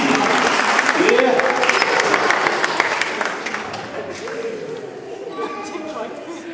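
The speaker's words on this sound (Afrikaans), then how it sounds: "gee aan 'n klap vir die polisie" Children at a church children's service clap for the police, a dense patter of applause that gradually fades, with excited voices chattering throughout.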